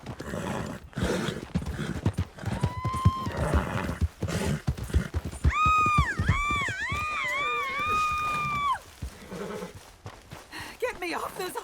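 A horse whinnies loudly in Red Dead Redemption 2 over clip-clopping hooves, with a long wavering neigh in the middle, while people talk and shout around it.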